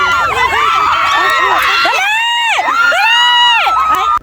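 A crowd shouts and cheers in a dense, loud burst, with high excited voices rising and falling together and children's shrieks and whoops throughout, close and sustained.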